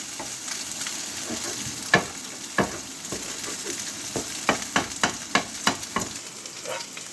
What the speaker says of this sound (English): once it starts cooking you can break it up into small bits, so as you can see that is cooking nicely